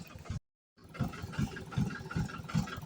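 A tractor engine idles nearby with a steady chugging, regular low thumping pulse, briefly cut out at the start and then resuming unchanged.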